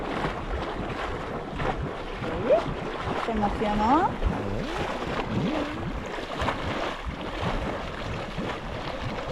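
A geyser hidden in a forest churns and bubbles strongly, with a continuous rushing roar of water and wind-buffeted noise close by, while people talk over it.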